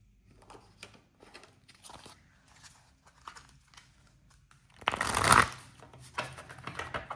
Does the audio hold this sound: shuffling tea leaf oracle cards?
yes